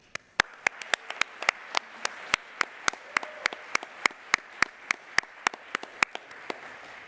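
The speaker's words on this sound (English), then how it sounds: "prepared to do another really, really big round of applause for the OSM US staff that made this conference possible" Sparse, evenly spaced claps ring out close and sharp in a quiet hall as a conference audience applauds the event staff. The rhythm is steady and the room is otherwise hushed, with no talking.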